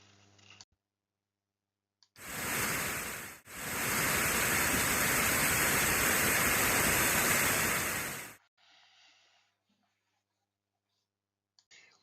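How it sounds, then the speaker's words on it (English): A waterfall tumbling over rocks on its way down to a river in Calderdale, a dense steady roar that rises in abruptly, holds for several seconds and cuts off, loud and close. "a spectacular waterfall that tumbles over the rocks on its way down to the river Calderdale below"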